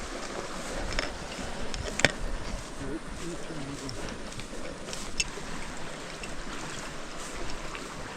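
Stream water flowing steadily through an outdoor spot, a continuous rushing wash with small splashes and occasional louder knocks, heard fairly close.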